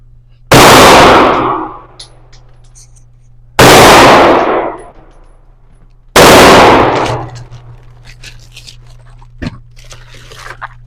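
Three loud, close shots from a Taurus Judge revolver loaded with 45 Colt and 410 bore shot, spaced a few seconds apart, each with a sharp crack that decays into a short echo on a range.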